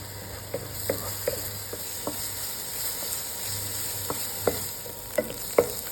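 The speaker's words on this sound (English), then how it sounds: "add in the onion green chili paste. Cook this for about 5 minutes on low flame." Onion and green chili paste fries in hot oil in a pan over low flame, a soft steady sizzle broken by occasional scrapes and taps of a spoon stirring.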